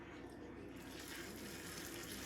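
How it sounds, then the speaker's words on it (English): Hot water pours and gushes steadily into a sink while face masks are washed, a continuous close splashing flow. "I'm gonna go ahead and now dump the hot water"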